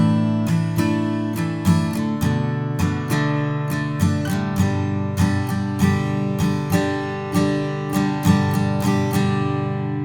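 Acoustic guitar strumming the verse chords of a song in standard tuning, a steady down-up pattern of ringing chords played alone and close, with evenly spaced strums across the whole passage.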